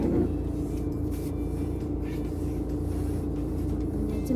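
A car pulling away, a steady loud low rumble of engine and road noise from inside the vehicle, continuous throughout with no clear talk.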